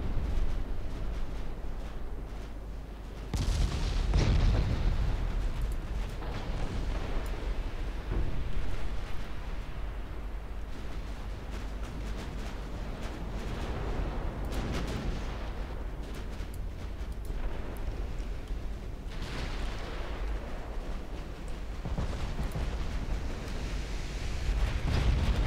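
Warship naval guns fire in Ultimate Admiral Dreadnoughts, deep booming blasts rolling out at intervals over a constant low rumble of sea and battle ambience, heavy and sustained with no talk.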